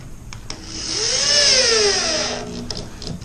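A power drill drives a screw into plywood on a raised garden bed, a single whining burst that rises and falls in pitch over about two seconds, close and loud, alone without talk.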